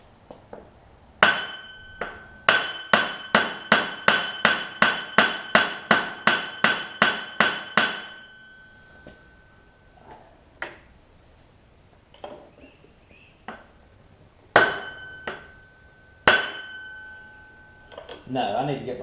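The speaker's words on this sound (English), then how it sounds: "just pries up on it, and then hits it with a hammer" A hammer strikes a metal part on a Troy-Bilt Horse riding mower with a Kohler Courage engine, a fast run of about fifteen sharp ringing metallic blows, then a pause with a few scattered louder strikes, close and loud.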